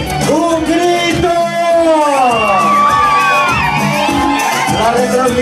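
A large crowd at a Bolivian beauty pageant shouts and cheers loudly, with overlapping whoops and high-pitched yells that rise and sustain throughout, close and dense.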